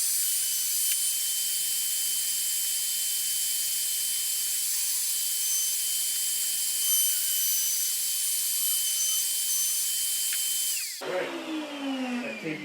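A bearing-guided router cutter trims the edge of laminate on a Donkey Kong arcade cabinet during restoration, a loud steady high-pitched whine running nearly continuously before cutting off near the end.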